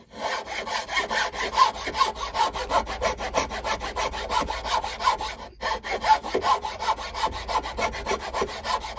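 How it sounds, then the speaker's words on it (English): Draw filing wood with a fine file held flat, a steady series of rhythmic rasping strokes, close and even, each pass scraping back and forth across the workpiece for a pencil holder. "draw filing, it's called"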